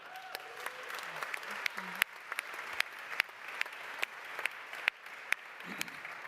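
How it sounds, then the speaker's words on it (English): Scattered, sparse applause from a conference audience, a handful of distinct claps ringing out at uneven intervals over a quiet room, with faint murmuring underneath. "So, big round of applause to Anna."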